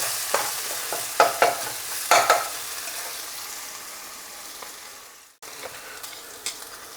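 Onions fry in oil in a pan with a gentle continuous sizzle, broken by several close scraping stirs early on and a brief dropout before the frying resumes more quietly.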